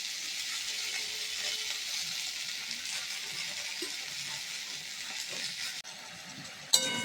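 Pabda fish curry spices with cumin powder stirred in a pan, giving a steady soft sizzle with light scraping, a brief sharp clink near the end.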